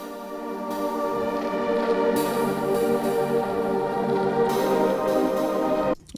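Bright, shimmering synth plucks from the Andromeda Star Cruise preset in a Cyberpunk sound pack ring out in layered, sustained chords, with new notes entering a few times before cutting off abruptly at the end.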